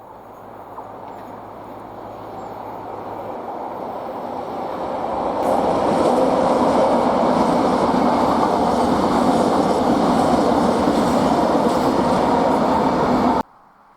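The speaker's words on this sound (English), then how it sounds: "we see ScotRail HST 43141 and 43133 descend the 1 in 80 grade near Dunkeld" ScotRail HST power cars 43141 and 43133 descend the steep 1 in 80 grade near Dunkeld, a loud, steady roar of engines and rolling wheels that builds as the train nears and stays close before cutting off abruptly.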